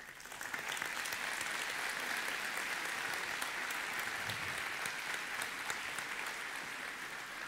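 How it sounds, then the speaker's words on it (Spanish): Church congregation at Vida Abundante del Sur applauds the mothers, with a dense, even burst of clapping that fills the room and holds steady throughout. "Podemos darle un aplauso a las mamitas."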